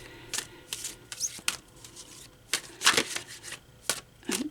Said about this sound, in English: we're going to shuffle these up